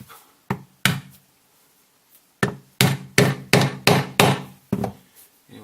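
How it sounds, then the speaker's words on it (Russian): Hand grommet setting tool struck with a hammer during home installation of a snap fastener on a setting base, sharp close hammer blows, a few spaced apart, then a quick run of six or seven evenly timed strikes. "Берем наш установщик для люверсов и оп."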